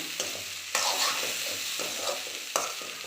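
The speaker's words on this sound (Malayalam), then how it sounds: "ഇനി എല്ലാം കൂടി നല്ല രീതിക്കൊന്ന് ഇളക്കി യോജിപ്പിച്ചെടുക്കാം" A spoon stirs spice mix for green gram thoran in a hot pan, giving a steady sizzle broken by a few sharp scraping strokes, close up and with no talking.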